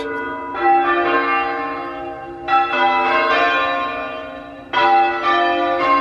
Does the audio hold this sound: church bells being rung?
yes